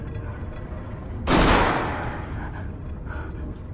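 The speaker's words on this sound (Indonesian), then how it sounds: "terdengarnya sebuah letusan tembakan dari ruangan pertunjukan" A single sharp, loud gunshot from a performance hall rings out, then decays over about a second into background noise.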